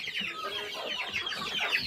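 Pure desi village chickens and chicks on a poultry farm in Vengurla, Konkan, clucking and chirping in a continuous overlapping chorus, fairly close and steady, with no talk.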